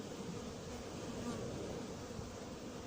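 Hornets buzz steadily inside an anti-hornet tent of 6 mm mesh, a close, continuous insect drone with no pauses.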